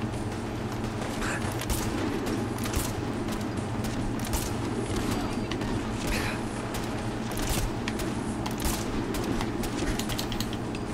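Dense gunfire pelts the player in a modded Fallout 4 battle, a continuous rattle of rapid shots and impacts crackling over a steady rumbling background for the whole stretch.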